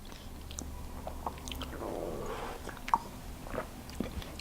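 Close-up crunchy chewing of a buttery shortbread cookie, with irregular bites and crumbly crunches, quiet and steady with no talking.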